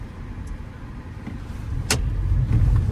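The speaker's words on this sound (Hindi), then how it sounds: "अब देखते हैं ऐसे गाड़ी निकलती है नहीं निकलती है" A car pulling away after being pushed up a steep, raised stretch of unfinished road, its engine note swelling in the last second, with a brief sharp knock or clunk partway through.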